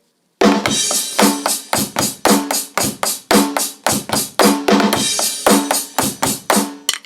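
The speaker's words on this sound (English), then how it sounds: "here's, what it sounds like when it's" A Carlsbro digital drum kit played in a steady groove, with kick, snare and cymbal hits ringing out loud and full, no voices.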